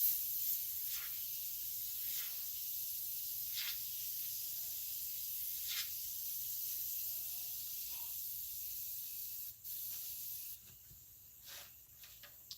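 An airbrush sprays paint onto a prop head in a steady, soft hiss, with short louder puffs of air at intervals and the pressure from the air compressor easing toward the end, with no voices.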